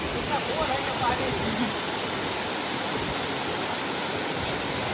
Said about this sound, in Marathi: पाणी आणि पाण्याचा आवाज